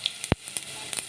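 Cumin seeds and dried red chillies go into hot oil, giving a brief sharp crackle followed by a low steady hiss of frying, with a few small pops scattered through it.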